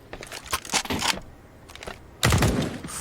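Gunfire in a professional Counter-Strike match, Fallen shooting through a rail: quick bursts of close shots, then a pause, then a heavier loud volley near the end.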